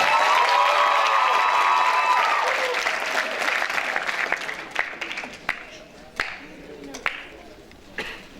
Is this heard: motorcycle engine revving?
no